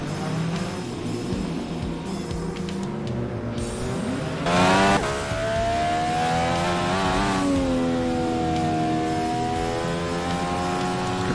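IndyCar race cars at Talladega in a racing video game: high-pitched engines whine and rev continuously, with a sharp burst of tire squeal and skid midway and rising, shifting engine tones afterward; no talk.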